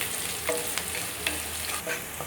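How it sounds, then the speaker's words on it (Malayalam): Ginger, shallots and garlic fry in a pan with a close, steady sizzle, and a spoon stirs through them in rhythmic scrapes about every half second. "ഇഞ്ചിയും ചെറിയ ഉള്ളിയും വെളുത്തുള്ളിയും ചെറുതായിട്ടൊന്ന് മൂത്ത് വന്നോട്ടെ"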